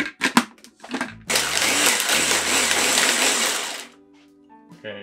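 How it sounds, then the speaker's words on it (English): A few clicks and bumps come first, then a blender blending a strawberry cocktail roars at full speed for about two and a half seconds before winding down. "And let's blend again."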